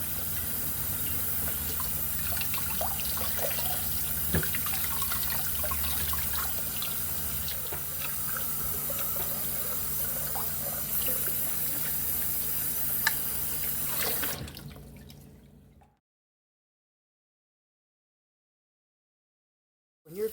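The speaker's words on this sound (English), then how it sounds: "I'll squeeze that excess water out and just continue the process." Pork intestine is washed under running tap water in a sink, with a steady close stream splashing and gurgling for about fifteen seconds before the flow stops and silence follows.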